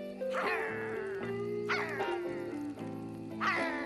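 A small cartoonish dog, a former human character, gives a few short high yips and barks in the Travis Strikes Again video game. The calls are spaced over a soft, tonal game-music background.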